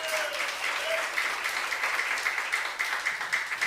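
A church congregation applauds together during a youth worship service, a dense, continuous patter of many hands clapping nearby that holds steady throughout.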